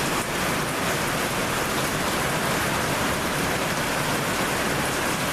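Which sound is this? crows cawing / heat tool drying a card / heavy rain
heavy rain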